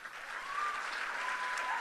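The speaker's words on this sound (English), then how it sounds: "Give a round of applause." Applause at a beauty pageant, a dense, even wash of clapping from a crowd, fairly near and sustained throughout.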